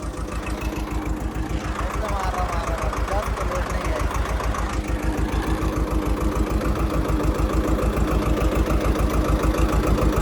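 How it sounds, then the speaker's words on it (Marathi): A tractor engine just self-started after a month idles steadily at around 600 to 700 rpm, a loud, close, even diesel chug with a fast regular beat that holds for the whole stretch, with no talk over it. "आता तर एकदम आयडल आरपीएम वर चालू आहे लईत लई सातशे सहाशे सातशे सहाशे तर आयडल आहे"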